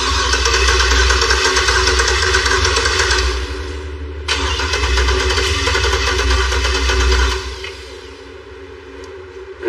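A turbocharged Hummer H1 truck engine runs steadily with a loud, continuous low rumble, a brief dip near the middle, then settles to a quieter idle toward the end.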